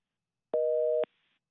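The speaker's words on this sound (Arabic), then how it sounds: "التليفون وقع" A single telephone busy-signal beep after a dropped call on a live call-in prayer show, one steady tone of about half a second, clear and alone against silence.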